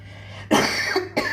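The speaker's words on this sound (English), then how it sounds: "That is a smoker's cough, not a COVID cough." A single harsh smoker's cough bursts out after a quiet moment, followed by a short second cough, close and loud.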